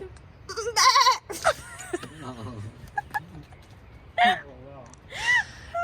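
A person mimics a sheep, giving several wavering, nasal bleats in short bursts spaced across the moment, close and fairly loud, with gasps and a few other voice sounds between them.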